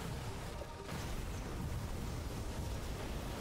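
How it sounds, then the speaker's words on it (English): Rumbling explosions in the horde survival roguelite Scarlet Tower, a continuous low booming wash of game blasts behind the play, loud and dense throughout with no clear gaps. "We got a lot of explosions going behind us."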